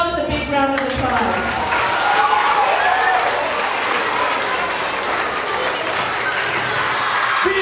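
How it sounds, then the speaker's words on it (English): Children applaud themselves for the toy donations they brought in at a Giving Tuesday gathering, loud, continuous clapping mixed with crowd noise and voices, plus a brief squeaky rising sound near the start. "Please give yourselves a big round of applause."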